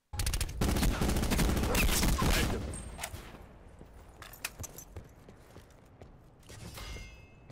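Tactical rifle gunfire in a video game, with dense rapid bursts of loud shots for about two seconds, then scattered single shots, metallic clinks and game effects at a lower level.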